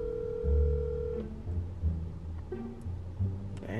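A phone call goes straight to voicemail: a steady electronic tone holds for about a second, then gives way to faint line noise and soft background clatter.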